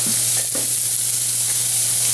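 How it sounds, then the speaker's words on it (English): Green pepper sautéing in a pan gives a steady, close sizzle with a few brief stirring scrapes, over a constant low hum. "I usually like to saute my pepper before putting it in the recipe."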